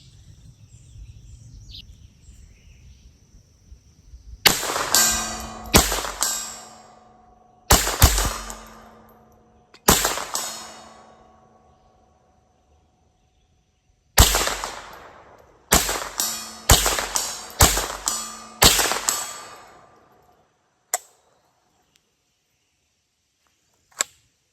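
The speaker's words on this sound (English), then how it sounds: "right now I'm just gonna blast off a few rounds" A .22lr rifle fires about a dozen sharp, close shots at a target in irregular bursts. Each crack rings briefly, and quiet gaps and faint background sounds fall between them.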